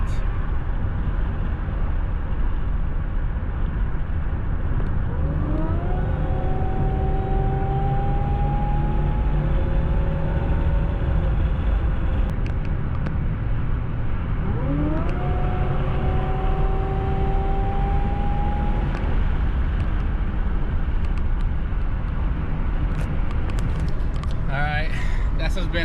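A Buick Regal GS fitted with a ZZP Stage Two upgrade, heard from inside, accelerates twice on a pull, with engine tone sweeping upward each time over loud steady road roar.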